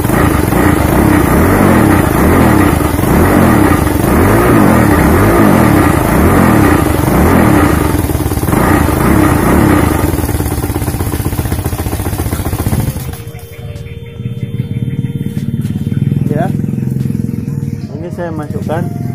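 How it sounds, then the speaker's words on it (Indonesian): A motorcycle in first gear with its wheel held back, the engine revved hard and loud for about thirteen seconds before dropping to a rough idle, with people talking over it. "Itu saya gas ya kan, gas kenceng itu sambil nahan roda"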